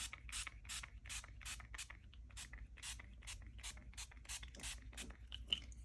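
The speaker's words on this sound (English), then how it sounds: "And spray on this side." Rapid bursts of spray hiss repeat in a steady rhythm, each a short airy blast from a spray bottle spraying colour onto lace, close by and fairly quiet.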